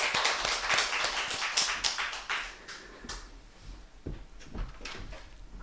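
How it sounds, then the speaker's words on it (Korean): A church congregation claps together during a Sunday morning worship service, a dense, loud patter of many hands that thins out and tapers toward the end. "주님께 영광의 박수 올려드립시다"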